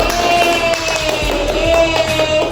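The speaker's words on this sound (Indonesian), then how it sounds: "Tepuk tangannya dulu." A class claps together as a reward for a student group, a short burst of brisk, fairly loud hand claps with a few sharper taps standing out, and no talking over it.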